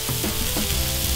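Cheese smashburger patties cook on a hot griddle with a continuous close sizzle, a few soft pops and crackles running through it, and no one talking.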